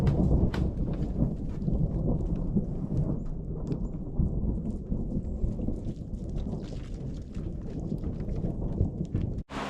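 Low, continuous rumbling thunder rolls on under steady rain, fairly quiet and distant, ending with a sudden sharp thump.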